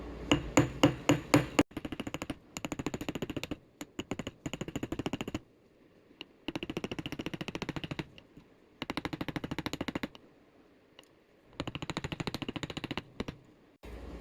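A hammer texturing a wire tree-of-life pendant on a metal block, delivering rapid bursts of sharp, ringing metallic taps separated by brief pauses, close and crisp with no talking.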